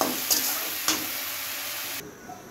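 Water lily stems fry with salt in a pan, giving a soft steady sizzle broken by two brief scraping stir sounds before the hiss drops away.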